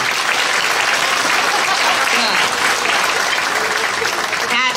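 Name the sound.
audience clapping loudly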